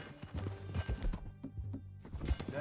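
Horse hooves clip-clop in Red Dead Redemption 2, a run of close, uneven thuds with a brief pause, heard over low game ambience and without talking.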